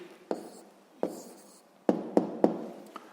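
A pen writes down a sixth-grade math answer on paper, giving a few separate taps and short scratches close by, then three quicker strokes in a row, quiet and without talk.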